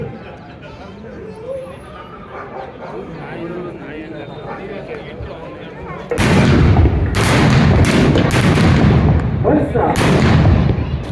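Muffled chatter and background noise, then several loud, sharp blasts from explosives set behind a bus burst out in quick succession at a police (KSRP) annual sports meet, booming over the rest of the sound.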